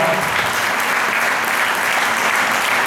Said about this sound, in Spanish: a quien hay que brindarle un fuertísimo aplauso